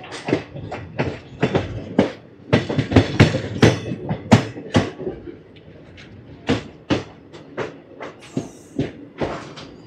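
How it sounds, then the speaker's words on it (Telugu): Ratnachal Express 12718 running on LHB coaches, heard as irregular sharp clicks and knocks from the rail wheels and carriage, bunched in quick clusters with brief quieter gaps, close and fairly loud. "ఎల్హెచ్బి కోచెస్లో మనకి సౌండ్స్ రావు, స్మూత్గా వెళ్ళిపోద్ది."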